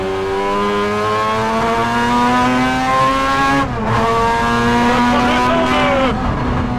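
Mazda rotary-engine prototype race car driving on a track, a loud, steady high-pitched engine wail with rising and falling revs, a brief lift near the middle before climbing again; a voice speaks faintly underneath.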